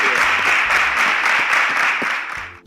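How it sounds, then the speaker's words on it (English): A crowd at a Nigerian science talent show claps steadily, a dense continuous wash of hands that holds for a couple of seconds and then tapers off at the end. "A round of applause for all of you."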